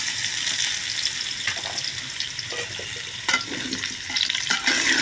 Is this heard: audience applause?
no